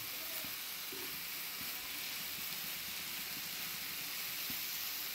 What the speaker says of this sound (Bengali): পেঁয়াজ আর করলা ভাজি করি